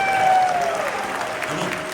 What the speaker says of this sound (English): Make some noise for Mickey, y'all.